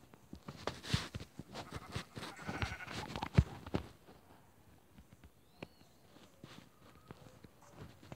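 Sheep bleating in the Minecraft video game, a few short bleats among soft blocky footsteps, at moderate level with no talk.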